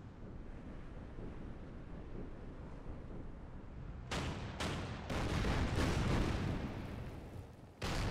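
Coastal guns firing in the naval strategy game Order of Battle: Kriegsmarine, several loud booming blasts in quick succession after a stretch of rumbling wind-like noise, no talking.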